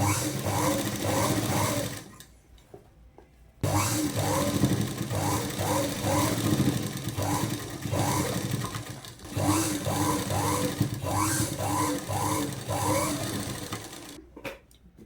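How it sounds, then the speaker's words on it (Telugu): An electric sewing machine stitches the side joints of a ready-made frock, running in long steady bursts with rhythmic needle chatter and a short pause between runs. "సమానంగా పట్టుకొని కుట్టు అనేది వేసుకోవాలి"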